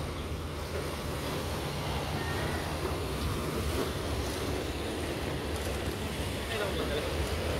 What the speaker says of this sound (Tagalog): Malakas yung tubig. Malakas yung alon.